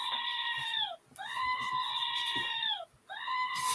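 A goat bleats loudly in three long, wavering calls, each drawn out for about a second with short gaps between, close to the listener and free of any talk.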